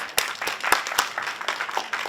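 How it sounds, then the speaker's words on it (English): A small crowd at a jewellery industry fair claps in brisk, uneven bursts, a steady patter of applause with a few sharper individual claps standing out. "Come on, big round of applause."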